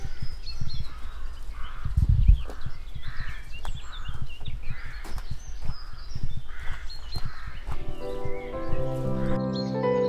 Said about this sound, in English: Just listen to the bird life overhead.